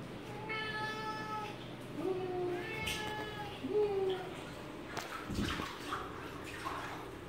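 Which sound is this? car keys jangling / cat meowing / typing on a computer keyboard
cat meowing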